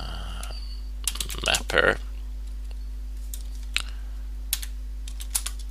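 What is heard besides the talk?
typing a Linux mount command on a computer keyboard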